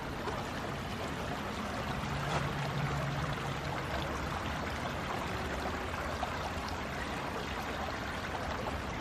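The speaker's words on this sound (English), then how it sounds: "creek runs through here too" A creek flowing through a park, a soft continuous wash and trickle of water that stays faint and even throughout, with no voices.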